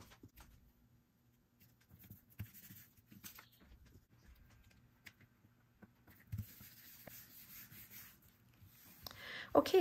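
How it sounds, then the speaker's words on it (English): A Scotch glue stick rubs and scrapes softly across paper pieces while they are glued into a booklet-style trade card, with quiet intermittent strokes, paper handling and a louder rustle at the end. "I will glue those down"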